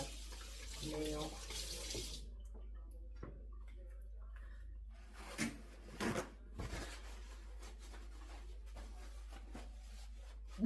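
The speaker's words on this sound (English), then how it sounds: "so I can wash my hands" Water from a kitchen-sink tap runs steadily as hands are rinsed, a loud rushing stream at first that drops to a quieter flow, broken by brief splashes and handling sounds.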